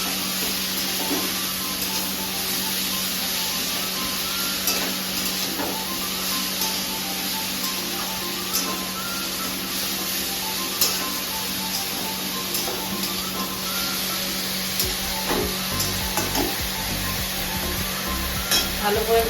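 Food fries in a pan during home cooking of Bengali vegetable chops, a steady, continuous sizzle and hiss with occasional stirring clinks and a faint voice in the background.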